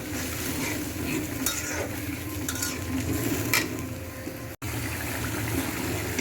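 Spice masala is sautéed in a pan, a continuous close frying sizzle with stirring scrapes and occasional clinks of a utensil against the pan, briefly cutting out for an instant before resuming.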